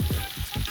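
Kerala-style salmon pieces frying in hot coconut oil, a loud close sizzle with rhythmic bubbling pulses and no talking.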